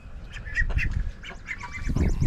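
Several ducks quack in a busy, overlapping chorus close by, with a low rumbling background underneath.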